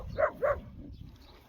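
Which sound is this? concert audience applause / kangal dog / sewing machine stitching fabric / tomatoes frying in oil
kangal dog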